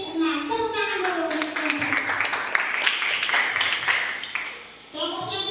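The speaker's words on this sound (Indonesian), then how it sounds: "Tepuk tangan dulu" A primary-school class claps together in the classroom. A quick, dense burst of rhythmic hand claps mixes with children's voices, then fades out before the voices return alone.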